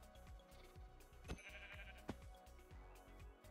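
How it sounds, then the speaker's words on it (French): A baby sheep in Minecraft bleats in short faint calls over a rhythmic, patterned game background, with two sharp clicks standing out. "Alors là, il y a un bébé mouton."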